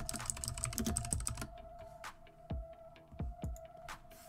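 Close, quiet clicks of a computer keyboard as a name is typed, a quick burst of keystrokes followed by a few slower separate taps over a low hum.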